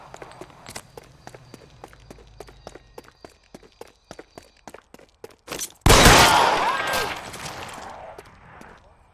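In the L.A. Noire video game, a run of quick, even thuds like hurried footsteps leads into one sudden, loud gunshot blast that rings out and slowly fades.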